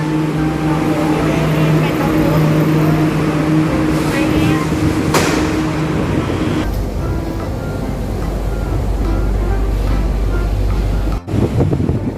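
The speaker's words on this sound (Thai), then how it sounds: "ตอนนี้รถไฟมาแล้วค่ะ" A Bangkok MRT train rumbles into Tao Poon station with a loud, low roar and windy rush, steady noise building over twelve seconds, with a brief dropout near the end.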